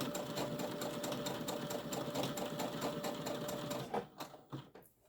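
Domestic sewing machine running steadily while stitching a cord keeper, driving forward then back to lock the stitches; a continuous close motor whir with needle rhythm for about four seconds before it stops, followed by a few light handling sounds.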